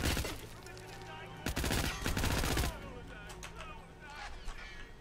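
Rapid burst of gunfire in the Hitman stealth game, a dense volley of shots lasting about a second, over ongoing game sounds and a voice talking.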